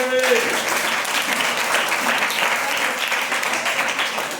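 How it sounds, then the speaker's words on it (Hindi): A church congregation claps loudly and continuously during a Hindi sermon. A voice speaks over the applause. "जोरदार ताली बजाइए।"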